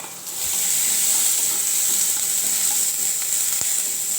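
Onion and garlic frying in a pan, a loud, steady, close hiss of oil sizzling throughout, with a couple of faint knocks and no talking.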